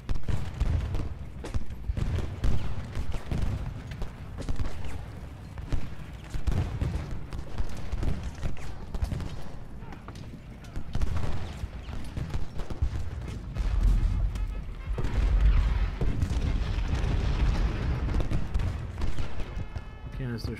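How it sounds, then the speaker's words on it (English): Canister shot artillery fire in Ultimate General Gettysburg, a continuous battlefield din of massed musketry and cannon with rumbling low booms and scattered galloping hooves, loud and sustained throughout. "Canister shot's the only chance we got"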